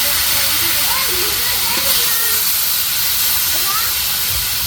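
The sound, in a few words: eggplant slices frying in hot oil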